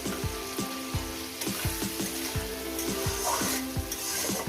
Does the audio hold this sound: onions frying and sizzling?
yes